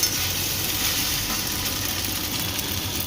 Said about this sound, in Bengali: টমেটো সস, চিলি সস দিয়ে ভালো করে আরেকবার নেড়ে নেব।